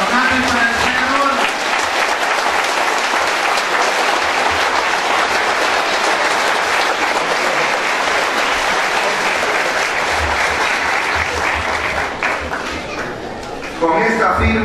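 Sustained applause from a large crowd at a political event, loud and steady, with voices mixed in, tapering off near the end.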